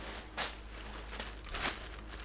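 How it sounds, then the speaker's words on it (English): Plastic bags or sandwich bags being handled while packing for tropical hiking: two short crinkling bursts, the first near the start and a stronger one later, over a quiet background with no talking. "plastic bags and sandwich bags, also very useful"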